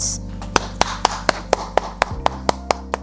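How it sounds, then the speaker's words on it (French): One person claps hands about a dozen times in an even, moderately quick rhythm, the crisp claps close and distinct against a faint hum indoors. "J'applaudis parce que c'est très beau."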